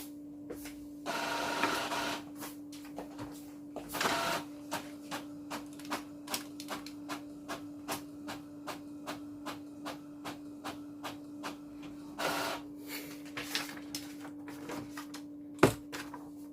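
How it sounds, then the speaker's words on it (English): An Epson L6170 ink-tank inkjet printer runs steadily with a constant mechanical hum, punctuated by rapid rhythmic clicks of the print head and occasional louder whirring bursts of paper feeding. "now this is going to be the last print test"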